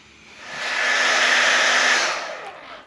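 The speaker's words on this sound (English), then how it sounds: "One nice thing, just using the hair dryer, it's not gonna get that hot." A hair dryer blows steadily on a Yamaha YZ450F dirt bike's plastic bodywork to loosen stickers, a broad whooshing airflow that swells to full strength, holds, then tapers off, with no talking.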